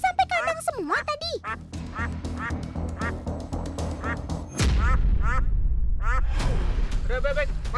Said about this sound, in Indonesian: Ini ada bebek Mas Roni, yang ketinggalan.